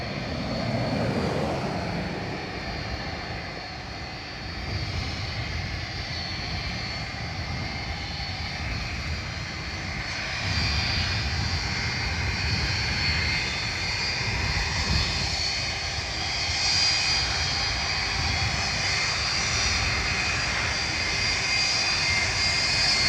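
Airplane taking off from Dublin Airport on runway 10 right, a continuous loud engine roar that swells and rumbles throughout, heard from outside at a distance with no talk.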